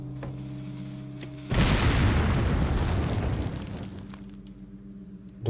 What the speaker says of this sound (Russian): Они швыряются гранатами. Ну, не гранатами, взрывчаткой, короче